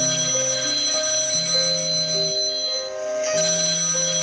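Telephone ringing unanswered, a repeating electronic melodic ringtone cycling through tones, steady and clear, with a brief pause before resuming, no voices.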